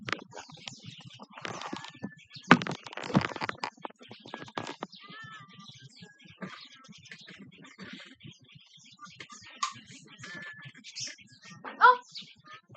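Faint bird chirps and short tweets scattered through a quiet room, with some soft rustling and handling noises near the start.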